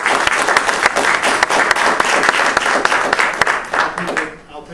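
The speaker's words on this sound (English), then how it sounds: "I'll take that as our round of applause." A seated audience applauds at the close of a health reform talk in the Central Valley, a dense, steady round of clapping at full loudness that tapers off near the end, with a voice surfacing over it.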